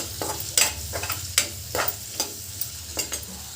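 Vegetables frying in a pan are stirred together with turmeric, coriander powder and homemade black masala, steady sizzle under rhythmic scraping strokes of a spoon roughly every half second, close up.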